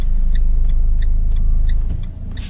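A turn signal ticks in an even, rapid rhythm inside a car leaving a parking lot, over the loud, close drone of the engine, which eases off near the end.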